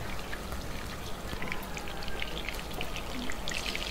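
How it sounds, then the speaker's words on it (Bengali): Beef meatballs fry in about half a cup of oil on high heat in a tawa, giving a dense, even crackling sizzle like steady rain, close up and unbroken. "আমি এখানে হাফ কাপ তেলের সাথে হালকা করে একটু ভেজে নিচ্ছি হাই হিটে"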